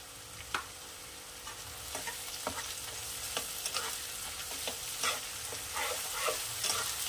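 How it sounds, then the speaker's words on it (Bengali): Ginger garlic paste frying with onions in a pan for a fish curry, a steady sizzle broken by repeated scraping stirs of a spoon. "এবারে এখানে আমি দিয়ে দেবো 1/2 চামচ আদা রসুন বাটা।"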